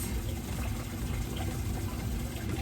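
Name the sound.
running water into bowl of apples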